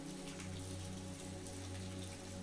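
Steady rain falls outside a house, a soft continuous patter and hiss with no voices, even and unbroken throughout.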